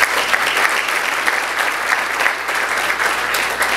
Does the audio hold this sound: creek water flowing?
no